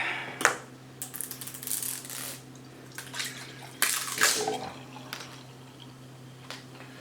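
Milk is poured into a glass in bursty glugs and splashes that come and go over several seconds, close and fairly clear, against a steady low electrical hum, with no speech.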